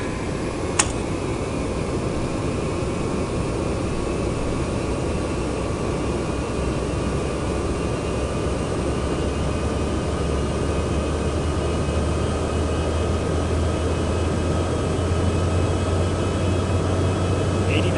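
Cessna Citation X jet engines spooling for takeoff in a flight simulator game, a steady even whine and rumble with a faint low hum rising near the end, a brief click near the start.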